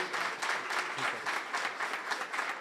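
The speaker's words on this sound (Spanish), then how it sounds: "Un aplauso, por favor." An audience at a Fuckup Nights money-edition event in Mexico City gives a round of applause, a dense, steady clapping from a sizeable crowd, continuous and fairly loud with no voices over it.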